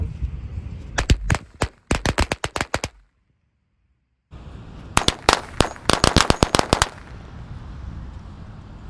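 A string of mercon korek firecrackers goes off outdoors in two rapid, crackling bursts of sharp pops, loud and close, separated by a brief silence.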